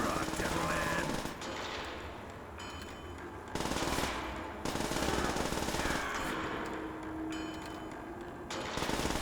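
A PPSh submachine gun fires in a Call of Duty zombies game, sustained rapid bursts of automatic gunfire broken by short pauses, loud and close.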